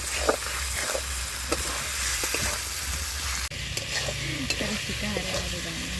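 Onion, tomato and capsicum being stir-fried in a pan, a moderate sizzle with scraping and stirring knocks, slightly louder and denser in the second half, no talk.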